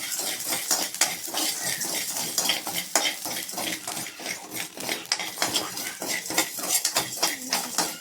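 Rock salt crackles as it dry-roasts in a pan for a lentil spice powder, with constant popping and a metal spoon repeatedly scraping and clinking against the pan.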